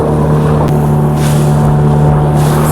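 A motorboat cruises on the sea at Devbagh, its engine a steady, loud drone throughout, with wind buffeting the microphone and no talk.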